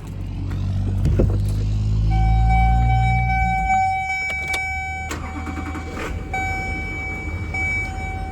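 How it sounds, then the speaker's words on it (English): Cab-over truck engine idling after an oil change, a low steady rumble with a brief surge early on, followed by sustained tonal whines and a few sharp clicks over the idle. "This thing's idling at like 65."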